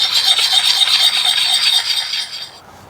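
A hatchet is ground in circular motions on the coarse side of a water-wetted sharpening stone, giving a continuous close, bright rasping scrape that stops abruptly near the end.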